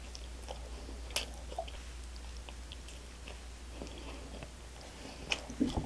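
Bread from a convenience store being eaten up close: soft, quiet chewing with occasional small bites and crunchy clicks over a low steady hum, no talking.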